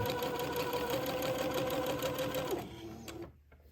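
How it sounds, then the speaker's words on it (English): A sewing machine stitches a hem to close a fabric casing, running in a steady, close mechanical whir for about two and a half seconds before slowing and stopping. "I'm going to hem the casing shut."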